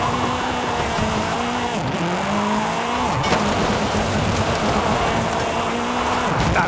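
A car drifts in Forza Horizon 5 with its engine droning and rising and falling in pitch, a steady tyre squeal running throughout.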